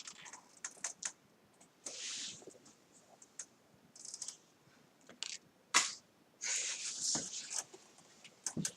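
A large deck of tarot cards is handled and shuffled close by. Irregular papery slaps, riffles and sliding scrapes come in uneven bursts, with brief murmurs of a voice between them.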